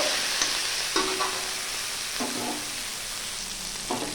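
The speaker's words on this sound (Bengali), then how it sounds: "এরপর দিলাম টমেটো কুচি, ধনেপাতা কুচি, পেঁয়াজ কুচি, ভালো করে ভেজে নিচ্ছি" Chopped tomato, coriander and onion fry in a pan with a steady close sizzle, punctuated by a few sharp spoon knocks and scrapes against the pan.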